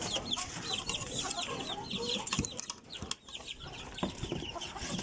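Chickens, including gold and white kelso fowl, cluck continuously at close range in a busy, overlapping chorus of short calls with a few sharper squawks mixed in.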